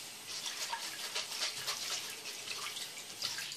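Running water from a tap rinses a konjac sponge, giving a steady, fairly faint splashing patter with no pauses.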